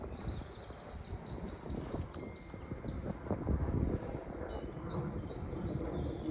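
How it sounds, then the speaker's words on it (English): Small birds chirp and tweet repeatedly in high, quick bursts over steady wind noise and rustling outdoors, with no talking. "I don't know if you can hear the bird chirping"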